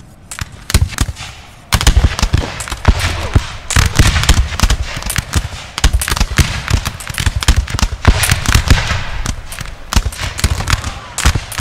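Dense, rapid crackling volleys of line infantry musket fire from a Napoleon Total War battle, loud and continuous with overlapping shots after a brief quieter start.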